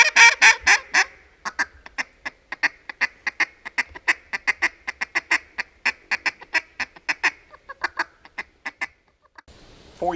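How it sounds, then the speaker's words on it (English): A wooden duck call is blown in a long series of loud, close quacks, starting with a rapid burst and settling into evenly spaced single calls, with no talking. "Before you learn to blow a duck call"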